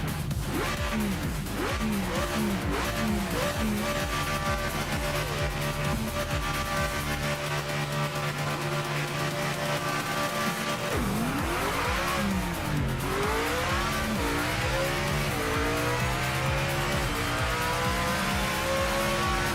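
A GT3 race car lapping Daytona in the Project Motor Racing game, its engine loud and continuous, rising and falling through repeated gear shifts and high revs with occasional tire squeal.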